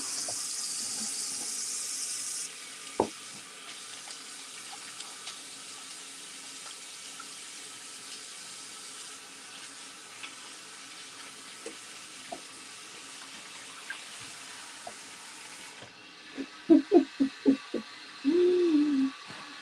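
Water runs steadily from a tap, a soft continuous hiss that stays even throughout, with a few faint clicks and knocks near the end and no one talking.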